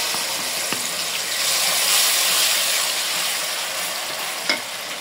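A paste of chili, onion, cumin and coriander fries in hot oil, giving a loud, steady sizzle with stirring scrapes throughout and no talk.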